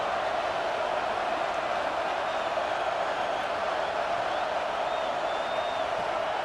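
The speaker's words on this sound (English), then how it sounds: "Listen to this crowd just shaking the girders of this place, trying to help their defense" A stadium crowd in EA Sports College Football 26 keeps up a steady, loud roar with no breaks, a dense wash of cheering that fills the whole stretch.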